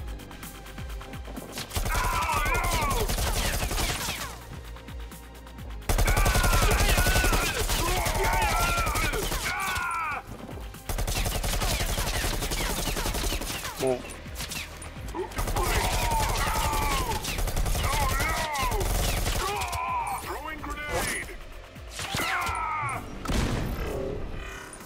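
Repeated rifle gunfire in the VR shooter Bullet Train, from two rifles, comes as loud rapid bursts and fusillades across the whole stretch, broken by a few short pauses and mixed with game effects.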